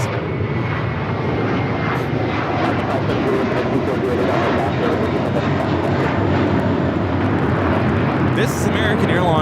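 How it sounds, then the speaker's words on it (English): An American Airlines Airbus A321 on its takeoff roll at LAX, bound for Orlando, gives a loud, sustained jet roar that holds steady for the whole stretch while people talk over it. "This is American Airlines 1024 taking off to Orlando on the A321."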